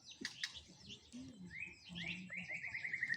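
A white-rumped shama (murai batu) gives a short, quiet run of bright chirps and rising whistled notes, close by against a soft background.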